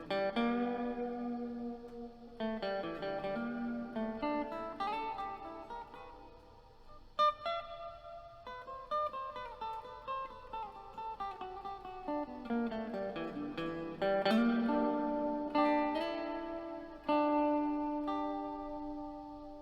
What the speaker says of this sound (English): I'm going to turn the reverb all the way up